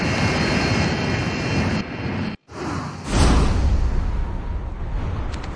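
An aircraft flies in the video game Call of Duty Mobile, a loud steady engine roar and rushing wind that cuts out for a split second and then swells back even stronger, with no talking.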